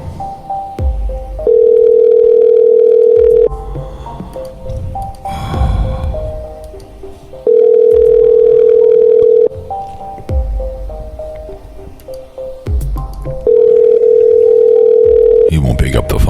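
Phone ringback tone while a call waits for pickup, three long steady tones each about two seconds, separated by gaps filled with rustling and muffled background noise.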